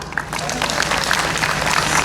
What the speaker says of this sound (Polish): Panie dyrektorze, brawa!